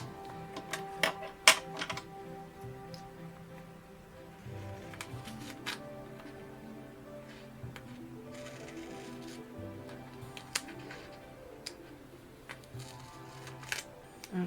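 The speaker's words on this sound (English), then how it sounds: "now what I'm going to do is go ahead and cut this piece here." Cutting a piece of card for a napkin-decorated handmade card, quiet clicks and snips at an uneven pace, close and faint over a soft background hum.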